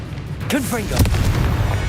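Confringo blasting spells go off in Hogwarts Legacy, heard as loud booming explosive bursts with whooshing, swooping magical tones, close and layered over a rumbling game background while a voice speaks.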